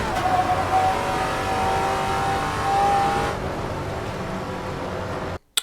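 A vintage Trans Am race car in Assetto Corsa roars steadily at high revs through a qualifying lap, its loud engine note holding before a brief drop and cut near the end.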